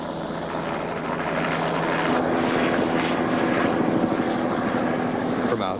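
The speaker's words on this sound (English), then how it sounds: "The chopper lands our camera team at a checkpoint on Mount Hassel" A military helicopter lands at a mountain checkpoint on Mount Hassel, its rotor chop pulsing loud and near under a steady engine whine, with voices talking over it.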